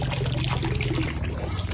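Water pours steadily over abaca fibre soaking during washing, a continuous close trickling rush with no breaks.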